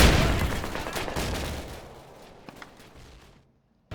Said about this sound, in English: With 3 machine guns shooting at me